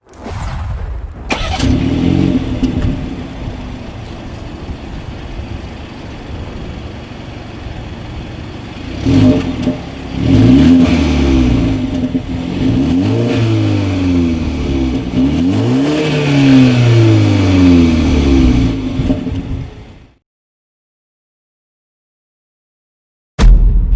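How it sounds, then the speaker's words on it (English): A BMW 330i's engine revs repeatedly through the exhaust, rising and falling in pitch with loud, rumbling bursts, then cuts off into silence. "As always, here is that exhaust clip."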